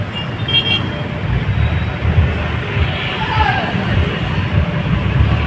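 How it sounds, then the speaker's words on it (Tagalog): Heavy road traffic at a congested junction near C5, with dense steady engine rumble and a couple of short car horn toots, loud and close, with faint babble of voices. "Puno lagi ng sasakyan to."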